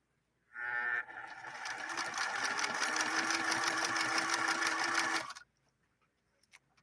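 A Singer Merritt sewing machine from 1872 runs continuously for about five seconds, stitching a large zigzag with a steady, fast mechanical clatter and rhythmic pulsing, close and loud, then stopping abruptly into near silence.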